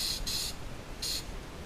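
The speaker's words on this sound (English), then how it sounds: "One thing I always do before I paint anything is check spray." Three short, sharp hisses from an aerosol can of direct-to-metal primer, test-sprayed before painting the brake calipers of a Nissan 300ZX, sounding close and steady over a faint background hiss.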